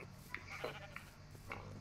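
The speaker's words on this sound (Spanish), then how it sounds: "Wow, son muchas ovejas." A few sheep bleat in the Minecraft video game, short wavering calls spread across a brief stretch at moderate volume over a faint steady background.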